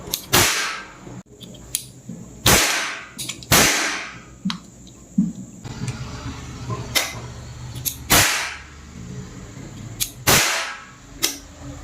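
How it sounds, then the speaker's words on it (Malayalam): A ring-cap toy gun fires about nine sharp, loud cracks at irregular intervals, with faint clicks and handling noise between shots. "ഇനി ജസ്റ്റ് അങ്ങ് വെടി വെച്ചാൽ മാത്രം മതി"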